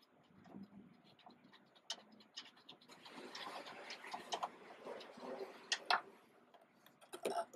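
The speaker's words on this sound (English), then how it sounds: "Using 13mm socket, remove the other 2 bolts securing the airbox tray." A 13mm socket ratchet clicks steadily while backing out airbox tray bolts on a 2014-2018 Dodge Ram 5.7L Hemi, producing faint, close, rapid ticking with a few sharper metallic scrapes.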